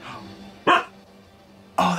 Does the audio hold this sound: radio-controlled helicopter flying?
no